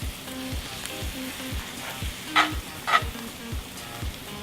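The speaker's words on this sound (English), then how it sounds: "So we add a little bit of butter and then the flour. And then we're going to incorporate that together just a little bit." Butter and flour stirred together in a hot pan, a steady sizzle with rhythmic scraping strokes and a couple of brighter clinks, close and fairly quiet.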